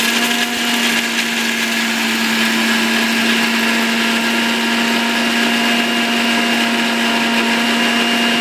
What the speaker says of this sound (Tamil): முதல்ல இந்த வர மிளகாயும் தேங்காயும் சேர்த்து அரைச்சி எடுத்துக்கலாம்.